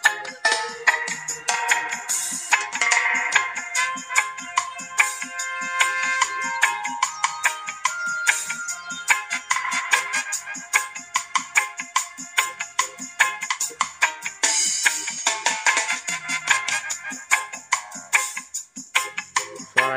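Music plays loudly through a 4-inch subwoofer speaker wired as a midrange driver without a resistor, a bright, busy melody with punchy rhythmic beats running continuously throughout.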